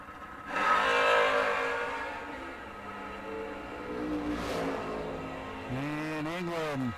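Mustang door cars, including a 1983 Mustang, make a drag racing pass, a loud engine roar surging then fading into sustained drone, with a voice briefly talking over the end.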